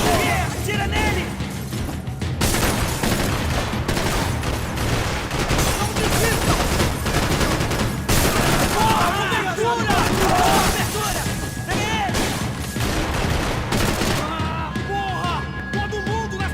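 Gunfire in the shooter Max Payne 3 fills a dense, continuous barrage of shots and impacts, with shouting voices talking over the chaotic firefight throughout.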